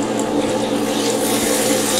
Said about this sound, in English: Let's add the water and the corn flour mixed.